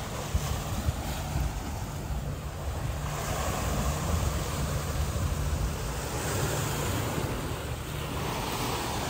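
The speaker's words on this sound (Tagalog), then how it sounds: "Lakas ng alon ah." Steady, loud roar of surf and ocean waves crashing at the White Cliff on Tung Lung Chau island, with wind buffeting the microphone, continuous throughout with no voices.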